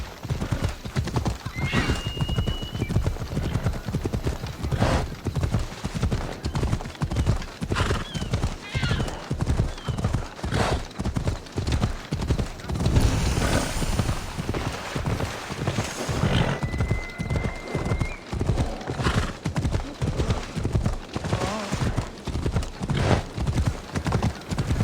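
Horse galloping with steady rapid hoof clip-clop under a rider, with occasional whinnies, from the game Assassin's Creed Odyssey; continuous and close throughout.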